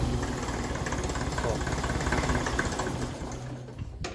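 A 1954 Ferguson TEF 20 diesel tractor engine idles steadily at low revs, a close, even rhythmic chug with a low knocking pulse throughout.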